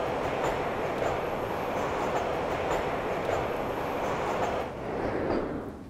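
A train ride in the video game Nancy Drew: Shadow at the Water's Edge, with a continuous loud rumble of rolling wheels and faint rhythmic clacks over rails, steady throughout with no talk.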